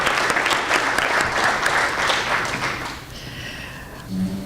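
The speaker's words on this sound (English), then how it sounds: "Let's give these students a round of applause and congratulate them on their scholarship award." An audience at a business school scholarship reception applauds award-winning students, a dense round of clapping lasting about three seconds before dying away, followed by a brief voice.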